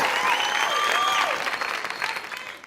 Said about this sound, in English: Let's give a round of applause to the committee.